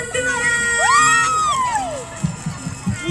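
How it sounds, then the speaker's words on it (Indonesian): Crowd of children and adults at a community performance for Dusun 2 cheering and whooping loudly, with voices shouting and brief clapping bursts toward the end. "Tepuk tangannya sangat-sangat gemuruh untuk Dusun 2"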